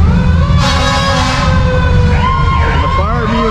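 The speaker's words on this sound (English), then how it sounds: "I hear the sirens in the background." Wailing fire engine sirens sound at an antique fire apparatus show and muster, sweeping up and down steadily over a heavy idling truck engine rumble, loud and nearby.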